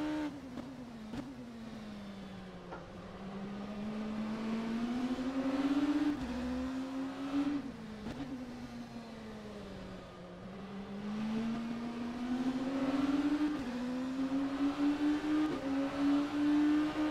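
An LMP2 prototype race car engine in the rFactor 2 sim racing game drones loudly and steadily, its pitch rising and falling with gear changes and throttle lifts through corners.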